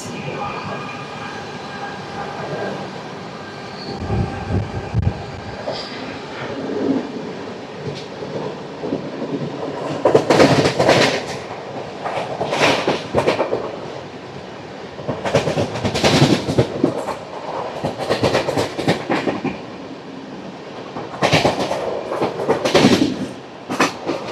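Bidar–Machilipatnam Express passes through Madira station, a drawn-out roar of rolling coaches with rhythmic clickety-clack bursts and rushing wind that swell and fade over about twenty seconds, close by and loud.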